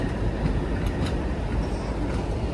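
A Tughlakabad shed locomotive rolling through Delhi station: a steady, dense rumble and rattle of wheels and cars with faint clicks, heard close and continuous for a couple of seconds, with no talk.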